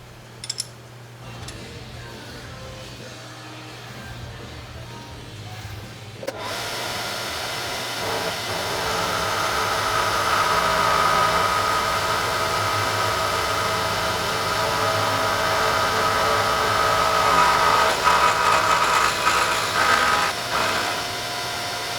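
A fly cutter milling pass across a metal part for a Honda Shadow 600 brake caliper mount starts abruptly after a quieter lead-in, then sustains a loud, even whirring hiss with faint tonal ringing until the end.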